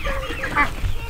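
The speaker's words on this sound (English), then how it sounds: "We let the ducks out today" Ducks being let out on a homestead give a short quack or two over a murmur of nearby voices and outdoor background noise.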